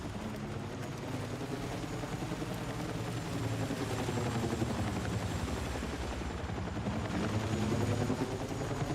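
A helicopter in a shooter video game gives a steady, loud rotor thrum for the whole stretch, with no voices and with faint crackles that may be distant gunfire in the mix.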